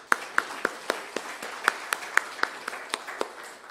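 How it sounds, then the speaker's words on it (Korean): Applause from a church congregation during a sermon, a small group clapping in a steady rhythmic beat of sharp, distinct claps over a few seconds, moderately near in a reverberant hall. "우리 두 분을 위해서 박수 한번 더 칩시다"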